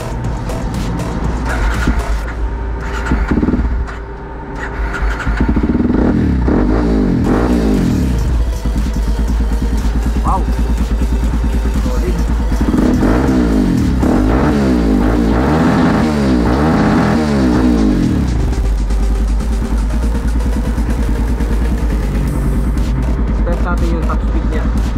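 A Kawasaki KLX230 motorcycle engine with a remapped ECU runs loud and close, repeatedly revving up and dropping back in rising and falling sweeps over a steady idle drone.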